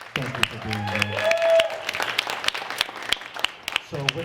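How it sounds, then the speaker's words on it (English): Scattered applause from an event audience honoring vendors at a small business gathering, sparse claps rising and thinning under a speaker's voice at the start and end. "I want to give all the vendors a round of applause"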